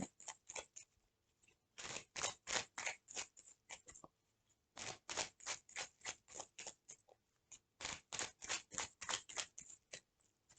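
A deck of tarot cards is cut and shuffled, with rapid bursts of crisp riffling snaps in three long runs separated by brief pauses, close and fairly quiet with no talking.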